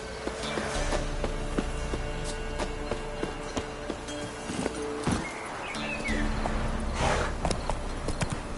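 Roach's hooves clip-clop at a walking pace in The Witcher 3, close and steady over faint game ambience, with a brief pause midway before the hoofbeats resume.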